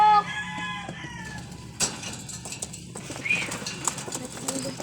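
Pigeons near at hand give soft coos, and a sharp burst of wing flapping breaks in partway through, over faint background sounds.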